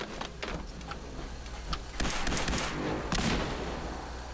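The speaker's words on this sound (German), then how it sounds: "Drei Schüsse." Gunfire in the video game Fallout 4, a few distinct sharp shots with ringing tails spread over a few seconds against low background noise.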